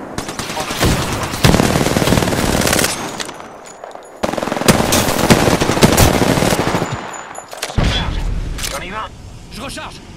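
Automatic weapon fire in Apex Legends comes in loud, close, rapid bursts separated by short pauses, with sharp cracks and booms, and a voice speaks over the shooting.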